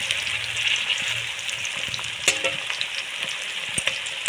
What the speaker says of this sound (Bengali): পেঁয়াজে টমেটো আমি খুব ভালো করে ভাজতে দেবো